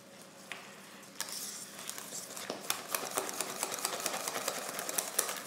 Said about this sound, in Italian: Lo sbattiamo con un frustino così il purè diventerà veramente molto più leggero e sfumoso